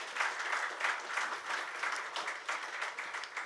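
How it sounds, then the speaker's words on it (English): A seated audience at a research report launch gives a round of applause, dense steady clapping from many hands, somewhat distant and soft, with rhythmic swells running the whole way without talk. "Have a round of applause for the people over here."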